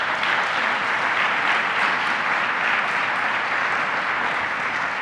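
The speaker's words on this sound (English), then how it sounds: "So let's give them a round of applause." Sustained round of applause from an audience at a government meeting, steady dense clapping filling the whole stretch at moderate level with no break.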